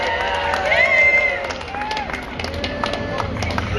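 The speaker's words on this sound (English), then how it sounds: "All those that think that Blueberry Kush should get the prizes this year, please give her a cheer on 3." A crowd at a 420 Victoria 2012 costume contest cheers loudly and whoops, with clapping mixed in, a dense roar of many voices and hands that swells then slowly eases off.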